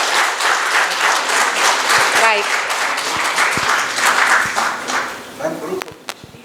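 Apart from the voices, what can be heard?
audience applause for the back-end team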